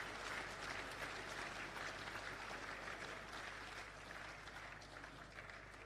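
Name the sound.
audience applause for board members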